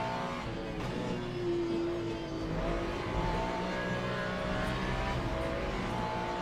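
Ferrari and Ford Mustang GT3 race cars in the Le Mans Ultimate sim racing game, a steady engine drone with gear-change pitch sweeps, sustained and moderately loud with no voices.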